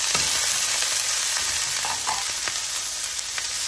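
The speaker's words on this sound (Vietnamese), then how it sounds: "Giờ Dung bỏ vào Dung xào với rau trước đó các bạn" Vegetables hit a hot pan with golden fried garlic for a vegetarian Bình Định-style stir-fried noodle dish, giving a loud, steady sizzle broken by occasional scraping stirs.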